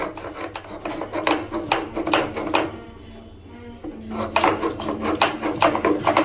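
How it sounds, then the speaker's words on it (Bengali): Ginger ground on a shil-nora grinding stone, a close, rough rasping of stone on stone in repeated back-and-forth strokes, pausing briefly before the rhythm resumes. "এবার আমি আদাটাকেও বেটে নিচ্ছি"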